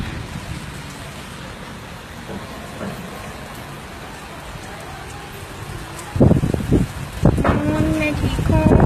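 Steady rain hisses throughout with wind noise, then louder bursts of talking or handling sounds come in near the end.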